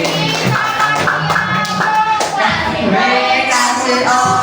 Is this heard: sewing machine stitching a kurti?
no